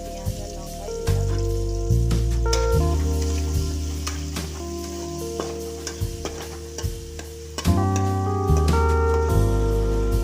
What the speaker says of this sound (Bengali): তাহলে পেঁয়াজটা ভালো ভাজা হয়ে যাবে।